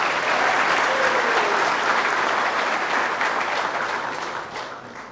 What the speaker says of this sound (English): Let's have a round of applause for 5 years of service.